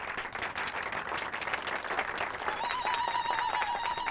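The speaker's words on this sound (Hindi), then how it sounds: "दूल्हा और दुल्हन के लिए जोरदार तालियां" Wedding guests give the bride and groom a lively round of applause at a nikah ceremony. Dense clapping continues throughout, with a faint tonal musical note rising near the end.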